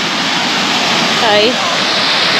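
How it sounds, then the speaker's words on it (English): A waterfall roars as a loud, continuous broadband rush that fills the whole scene, with a brief spoken greeting partway through. "this is a waterfall"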